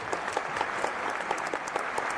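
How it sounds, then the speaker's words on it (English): Theater crowd applauding as heavy curtains close across a stage in the video game A Tithe In Blood, a dense sustained clapping with sharp individual claps standing out, echoing through the hall. "The crowd's applause, joined by my own, echoes about as the heavy curtains draw across the stage."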